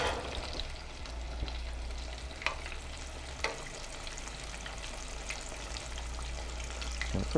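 Shrimp fry in a pot of hot oil, cooked about six at a time. A soft, continuous sizzle runs throughout, broken by a few sharp pops and clicks.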